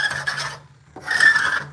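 Sanding an old Red Gum table produces two close, harsh rasping strokes separated by a brief pause, with a faint steady hum underneath.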